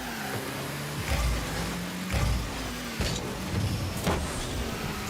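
A car's engine whirs and surges with boost bursts in a car soccer video game, a steady mechanical drone with several swelling pushes over a dense, noisy game mix.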